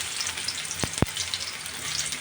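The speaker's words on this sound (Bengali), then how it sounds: "পেঁয়াজগুলো একটু ভেজে নেব" Chopped onions fry in oil in a wok with a continuous close sizzle, broken by two sharp knocks of a utensil against the pan.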